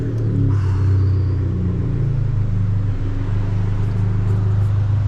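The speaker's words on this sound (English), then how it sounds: "This is the normal idle, guys, without the cold start" An Abarth 595 settles into idle after start-up, a close, loud, rumbling engine note that is deeper and faster just after firing and then drops to a steady, even burble.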